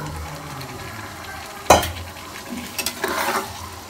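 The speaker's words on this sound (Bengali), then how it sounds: "এখন আমি এর মধ্যে ভেজে রাখা আলুগুলো দিয়ে দিব।" Fried potatoes stirred into cooked rice in a pan: a sudden scrape and clatter of a utensil against the pan, followed by softer stirring and light sizzling, with no talk.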